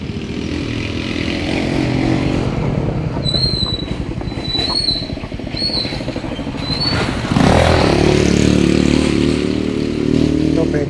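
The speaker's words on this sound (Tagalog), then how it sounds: "Teka, may mga tricycle pa eh." A motorized tricycle passes along a quiet road, its engine a loud, steady rumble with rattling clatter that swells and then shifts as it goes by, while birds chirp faintly in the background.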